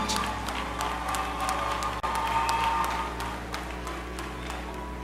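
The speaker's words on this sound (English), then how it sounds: "I invite a round of applause for the candidates" Commencement audience applauding graduating business candidates, a sustained, fairly distant patter of many hands in a large hall over a steady low hum, with a few sharper nearby claps.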